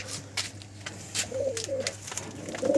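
Low coos of high-flying tumbler pigeons come in short bursts, a few repeated calls amid light clicks and scuffling, moderately close in a quiet indoor loft.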